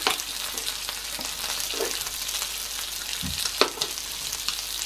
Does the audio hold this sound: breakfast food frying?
yes